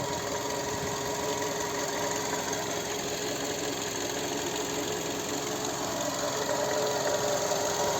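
A 2008 Skoda Octavia A5 1.6 MPI petrol engine idles steadily nearby, a smooth, even hum with a faint ticking rhythm and no other sounds.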